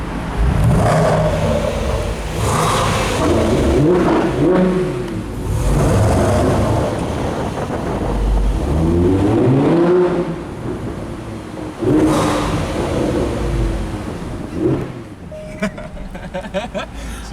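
A car engine revs and roars in repeated rising bursts, echoing as if in an enclosed space, loud and close throughout.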